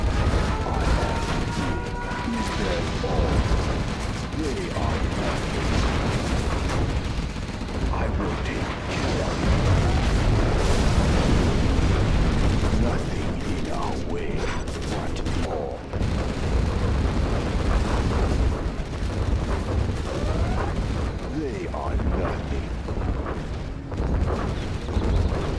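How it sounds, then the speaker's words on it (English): A nuclear missile launch and detonation in Command & Conquer Generals Zero Hour, a dense, sustained roar of rumbling blast and grinding mechanical noise that stays loud and steady throughout. "Launching nuclear missile."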